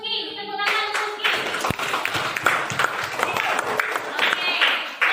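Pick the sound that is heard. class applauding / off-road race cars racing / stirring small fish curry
class applauding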